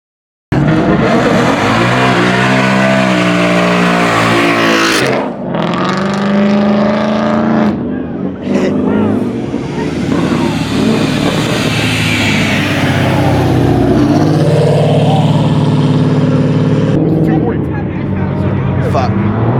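A loud car engine at a car meet that turns into a street takeover, roaring and revving continuously at close range, with excited voices talking and shouting over it.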